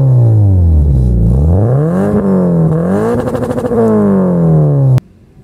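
Revving exhaust of an FRS/BRZ/GT86 running with the silencers removed: a loud, raspy engine note climbs, falls and rises again through several throttle blips, then cuts off abruptly near the end.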